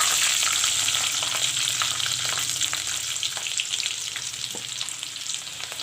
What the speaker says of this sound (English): I have cut up some garlic. You can see it's all cut up. I will put this in now. Put 2 green chilies.